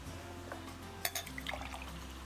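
Tap water poured briefly into a glass for a pH test, a short splashy trickle with a few drips and clinks, faint, over low background hum.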